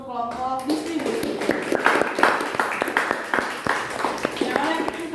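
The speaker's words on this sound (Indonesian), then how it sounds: "mari kita berikan tepuk tangan untuk kelompok distribusi." After a voice trails off, a class applauds a group presentation with a run of fairly close, crisp claps that keep up an irregular rhythm for about five seconds.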